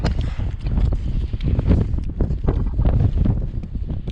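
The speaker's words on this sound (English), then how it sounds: "Honestly, the wind is not too bad up here" Gusty wind buffets the microphone on the summit of Quandary Peak, a 14,265-foot mountain, a loud continuous rumbling roar with uneven surges and faint footsteps underneath.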